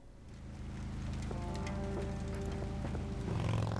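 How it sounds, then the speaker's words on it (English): Steady rain hisses in the Kathy Rain video game, a continuous wash of falling water with soft sustained music tones layered over it. "It's always raining."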